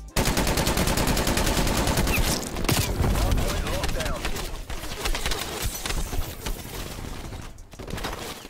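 Gunfire in Call of Duty Cold War, a fast automatic burst of dense, rapid shots for a few seconds, then scattered shots and battle noise fading behind.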